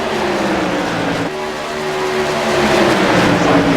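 Whelen Modified Series race cars at Dover thunder past in a loud, steady engine drone, with pitch rising and shifting as the pack accelerates nearby.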